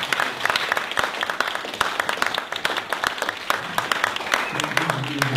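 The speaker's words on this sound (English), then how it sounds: "Let's give Dave Martel one more round of applause." An audience applauds a speaker at the close of a talk at a business and media event, steady clapping filling the room for several seconds with no words spoken over it.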